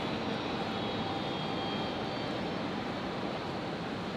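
An airplane at Brisbane International Airport, coming off the runway, sends a steady, broad engine roar that holds at an even level throughout, heard from a distance.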